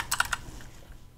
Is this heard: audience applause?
no